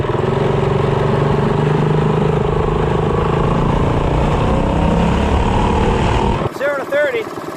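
CT200U-EX minibike with a long intake manifold accelerating hard from 0 to 30, a loud, close engine roar that rises steadily for about six seconds before cutting off abruptly, followed by a few faint chirps.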